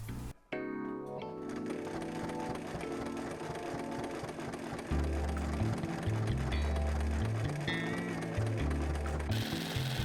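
A sewing machine stitches a sweatshirt hem, its needle chattering in a steady, close, fast rhythm with bursts of deeper motor thumping as the speed shifts, running for the whole stretch without talk.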